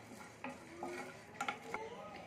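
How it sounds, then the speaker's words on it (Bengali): Whole spices for a cauliflower curry fry in a pan while being stirred: a quiet sizzle runs under scattered scrapes and light taps of the spoon against the pan. "এখানে আমি ভেজে নিচ্ছি ভালো করে।"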